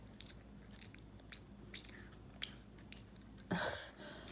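A 30-month-old toddler bites and chews corn close up: soft, quiet wet chewing and small crunches come in irregular bursts, with a louder rustle near the end.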